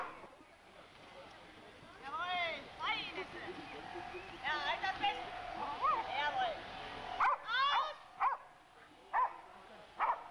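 A terrier barks and yips in quick, loud, close bursts during a mock arrest in dog sport training in Ireland, with sharp outbursts spaced irregularly throughout.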